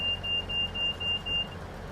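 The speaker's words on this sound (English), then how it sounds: "the automatic buzzer has told us that we are ready to go" The automatic departure buzzer in Train Sim World 4 sounds on a Class 158 unit on the East Coast Main Line, six short, evenly spaced high-pitched beeps over a low cab rumble, with no talking.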